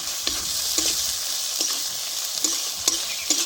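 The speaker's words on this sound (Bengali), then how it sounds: "মশলা আমি ভালো করে কষিয়ে নিছি।" Spice masala of ground cumin, turmeric and salt fries in a pan under a constant sizzle, punctuated by regular spatula scrapes roughly every half second, close and clear with no talking.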